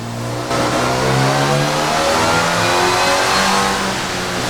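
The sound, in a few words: supercharged MGB B Series engine revving with supercharger whine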